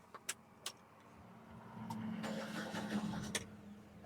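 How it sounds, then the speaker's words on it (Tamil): Mahindra Bolero Camper diesel engine cranking and catching after a few clicks, then settling into a low, shaking idle, heard faintly from inside the cab. "அப்படி ஒரு ஷேக்கோட வெஹிக்கிள் வந்து ஸ்டார்ட் ஆகுது."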